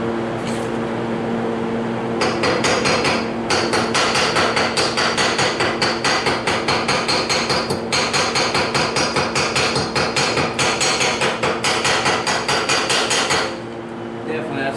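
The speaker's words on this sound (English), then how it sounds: "Go ahead and bust the slag off here." Rapid metal-on-metal hammering knocks welding slag off a steel mailbox, loud close blows in quick bursts with short pauses between them, over a low background hum.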